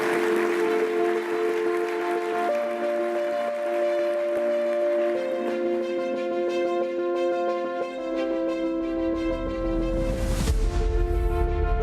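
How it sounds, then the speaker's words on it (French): Crowd applause swells beneath loud music at a MEDEF business gala evening in Meurthe-et-Moselle, France, growing denser toward the end. "je demande à Christine Bertrand, la présidente du MEDEF de Meurthe-et-Moselle, en l'encourageant sous vos applaudissements, de venir me rejoindre."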